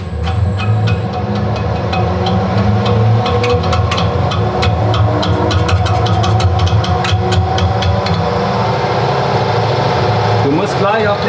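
A balancing machine spins a V6 crankshaft in a workshop, giving a loud, steady mechanical hum and whir with rapid rattling ticks through the middle, while people talk over it.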